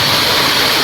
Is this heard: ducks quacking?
no